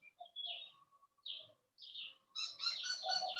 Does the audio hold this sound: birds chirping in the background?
yes